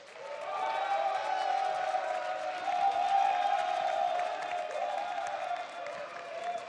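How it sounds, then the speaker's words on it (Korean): A large audience applauds and cheers during the group photo session at the press conference for the Korean drama Secret Affair (Milhoe). The clapping swells quickly and holds as a loud, dense, continuous roar with scattered whoops before easing slightly at the end. "그 어느 때보다 박수 소리와 환호가 큰 것 같습니다"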